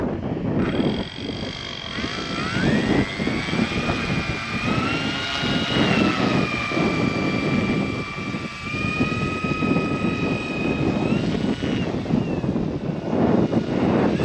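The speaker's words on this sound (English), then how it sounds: "let's have a quick taxi around, see how much power we've got. Gosh, it's a heavy model." An RC scale F7F Tigercat warbird model, heavy and with its engines running, taxis on the ground. The steady, close engine drone rises and falls in pitch as the throttle changes, with some wind noise on the microphone.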